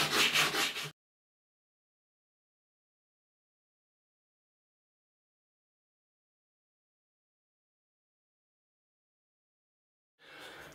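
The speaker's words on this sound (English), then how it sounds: "where's my sanding stick?" A sanding stick rubs over a laminated balsa model aircraft fuselage side in two short, close scratchy bursts, one at the start and one at the end, separated by a long stretch of silence.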